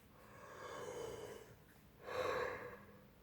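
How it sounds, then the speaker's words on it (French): A person yawns close by, giving two soft, breathy drawn-out exhalations separated by a brief pause, quiet and intimate. "Je suis en train de vous bailler à la gueule."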